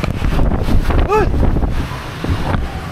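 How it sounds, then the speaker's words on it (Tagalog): Strong typhoon wind roars and buffets the microphone in loud gusts, easing somewhat after the first couple of seconds, with a short vocal exclamation heard midway. "Bigla hangin."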